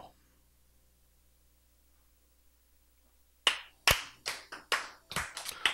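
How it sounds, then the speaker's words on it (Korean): A lone person claps at a Korean church sermon, about eight sharp, distinct claps in an uneven rhythm that start after a few seconds of near silence, close and fairly loud in a quiet room. "박수 친 사람 한 사람밖에 없네"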